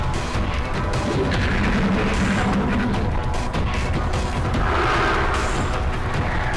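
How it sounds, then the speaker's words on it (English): Sectoid mind meld in XCOM, an eerie, sustained warbling tone with a low droning hum, steady and fairly loud throughout with no pauses and no talking. "That's the sound of a sectoid using mind meld."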